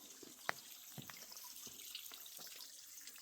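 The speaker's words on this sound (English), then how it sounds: "And it's dripping over there on that side." Water dripping beside a forest trail in the Ozark Mountains, heard as scattered, irregular drips, one sharper and louder than the others, over a quiet outdoor background with no talking.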